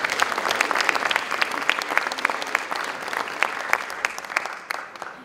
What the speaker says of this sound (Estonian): et ma arvan, et need tublid inimesed väärivad ka tublit aplausi.